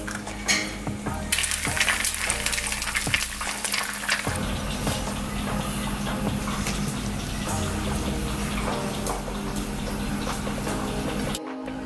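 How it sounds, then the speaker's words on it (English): Eggs sizzling and frying steadily in a pan for a Vietnamese broken rice dish, a continuous crackling hiss with a few utensil clinks early on, running without pause throughout. "So now we're gonna cook eggs"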